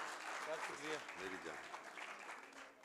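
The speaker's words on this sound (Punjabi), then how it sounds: "ਸਾਰੇ ਮਿੱਤਰਾਂ ਸਾਰੇ ਭਰਪੂਰ ਤਾੜੀਆਂ" Audience applause at the 2nd International Punjabi Conference in Lahore, a steady wash of clapping from a seated crowd that runs under a speaking voice throughout.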